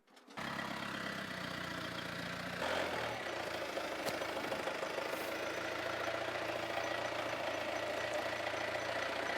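A forklift idles with a steady, low, even rumble through a training session, with a brief shift in tone early on, then a constant drone. No one speaks.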